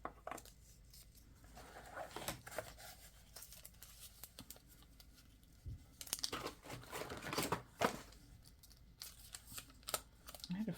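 Tape or paper is torn off by hand in several short ripping and crinkling bursts, close and fairly quiet, with handling noise in between.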